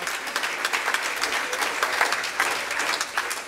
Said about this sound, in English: So if you could give Mike and Polly Smith a round of applause, that would be wonderful.